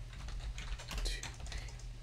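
Rapid clicking of computer keys as a name is typed on a keyboard, steady and close over a low electrical hum.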